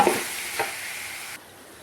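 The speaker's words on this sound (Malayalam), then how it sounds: "പകുതി വേവ് കഴിഞ്ഞ് വെച്ചിരിക്കുന്ന കുടൽ അരിഞ്ഞ് വെച്ചിരിക്കുന്നത് ഇതിലേക്ക് നമുക്ക് തട്ടിക്കൊടുക്കാം നന്നായിട്ട് ഇങ്ങനെ ഒന്ന് ഇളക്കണം" Chopped, half-cooked goat intestine is stirred in a hot pan, giving a brief close sizzle with a couple of scraping strokes before the sound drops away.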